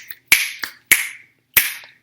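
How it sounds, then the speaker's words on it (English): Three crisp, close finger snaps at a steady, unhurried pace, each sharp and dry, alone in silence, with a fainter snap just before the first. "the finger snaps are back"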